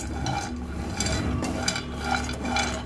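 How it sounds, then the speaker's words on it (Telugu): Pistachios and cashews fry in a pan while being stirred, producing a fairly loud rustling sizzle with repeated scraping strokes of the spoon, no voices. "ఇప్పుడు ఇందులో కొన్ని పిస్తా అండి, అలాగే కొన్ని కాజు, ఇందులో కూడా పచ్చిదనం పోయేంత వరకు ఫ్రై చేసుకోవాలి"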